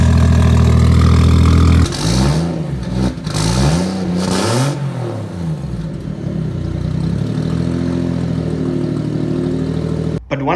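Turbocharged Mercedes M104 3.2 litre inline six, fitted with a GT35 turbo in a Mercedes W203, starts with a loud drone, then revs repeatedly in rising and falling sweeps before settling to a steadier idle, close and dominant.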